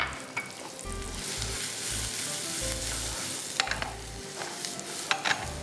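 Garlic sizzles in a hot pan, a dense continuous frying hiss with scraping stir strokes and occasional sharper crackles up close, no talking.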